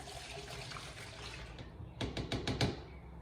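Coolant poured back into the recovery tank of a 2006 Triumph Speed Triple motorcycle: a soft, close liquid splash and trickle arriving in a few short bursts after a quiet hiss.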